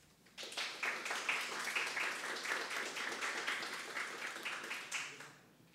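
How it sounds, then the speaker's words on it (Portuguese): Event attendees at a lawyers' talk give a round of applause, rising quickly into dense clapping from many hands that holds for several seconds and then tapers off, fairly faint overall. "para o que peço uma salva de palmas."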